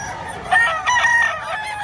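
A rooster crows once, loud and close, among bull stags offered for sale at a chicken market in Batangas, its drawn-out call rising and falling over steady background noise with no talk.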